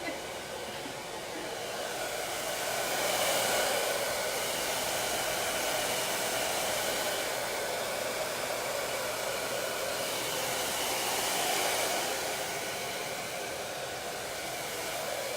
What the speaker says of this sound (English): You have a blow dryer like right on your head.